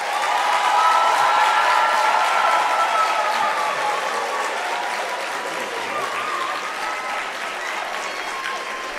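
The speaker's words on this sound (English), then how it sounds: "Graduates, can you please give them a thunderous round of applause?" Sustained, dense applause fills a university graduation ceremony hall at the University of South Africa, loud at first and easing slightly toward the end, with faint cheering mixed in.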